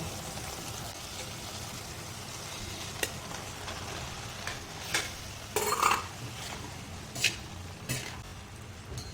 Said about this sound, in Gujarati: હવે આપણી ગ્રેવી સરસ ચડી ગઈ છે તો આપણે તેમાં પાસ્તા ઉમેરી દઈશું